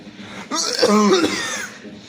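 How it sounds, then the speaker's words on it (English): A single close, harsh cough with throaty clearing, loud and brief, with voice-like tones mixed in. "is it okay if I cough in your video?"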